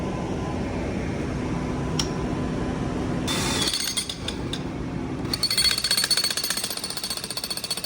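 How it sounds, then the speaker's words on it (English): Jackhammer breaking up street pavement, starting up in loud, rapid pounding bursts that rattle on close by, with steady background noise between them and no voices. "So we went and got the jackhammer so we could go for it after the street guys already covered it"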